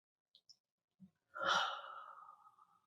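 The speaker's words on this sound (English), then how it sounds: "Taking a deep breath in and out." A calm deep breath is taken in and let out during a guided meditation, after a few faint clicks, a soft close exhale sighs out and trails off quietly.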